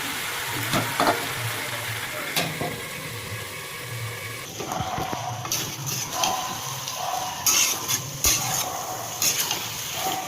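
Meat sautés in a pan over low heat, a close sizzle broken by repeated stirring scrapes and clinks, with watery bubbling and uneven bursts throughout.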